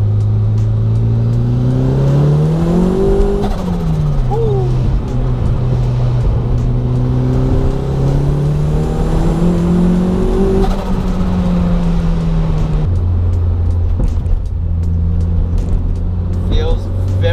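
A turbocharged Toyota MR2 pulls hard through second and third gear, its engine note rising steadily, dipping at the shift, then climbing again, loud and close from inside the car, with a voice talking over part of it.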